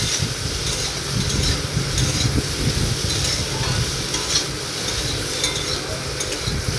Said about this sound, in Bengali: এর মধ্যে দিয়ে দেবো হলুদ গুঁড়ো তারপর ভালো করে মিশিয়ে